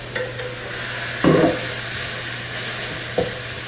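Curry sizzles and hisses steadily in a pan on high heat as a splash of liquid is added, with a loud burst of spitting and a brief clatter from the pan.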